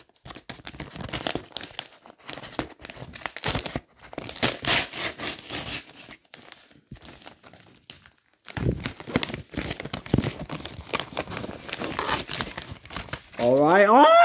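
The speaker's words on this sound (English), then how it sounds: "today we're opening the multi-pack of the Euro 2024 stickers" Crinkly plastic wrapper of a Match Attax Euro 2024 sticker multipack being torn open and handled, with bursts of loud crumpling and ripping that come and go across the whole stretch, close to the microphone.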